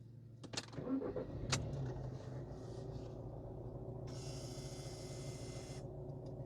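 A car engine cranks and catches with a short burst of clicks, then idles steadily while a motorized head-up display whirs open with a bright buzzing hum for a couple of seconds.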